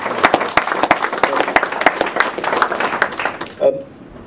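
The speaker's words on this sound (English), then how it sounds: "round of applause." Staff at an organisation's annual general meeting receive a round of applause from the room, dense clapping for about three and a half seconds that then stops abruptly, followed by a short murmur.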